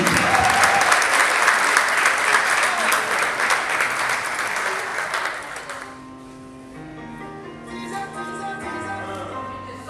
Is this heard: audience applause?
yes